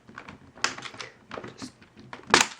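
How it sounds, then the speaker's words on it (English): Plastic clips on an ASUS PR1101U keyboard snap loose as it is pried apart, a series of close, crisp clicks and taps, with a couple of sharper pops near the end. "You can use a tool to unclip the various clips on the top."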